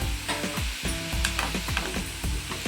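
Ingredients for chicken chops sizzle steadily in a pan, a continuous crackling fry with occasional stirring scrapes and clinks, close and fairly loud with no voices.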